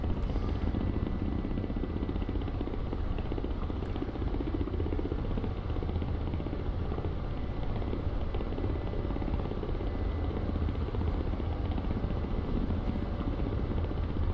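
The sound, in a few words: Ka-50 combat helicopter flying low, DCS video game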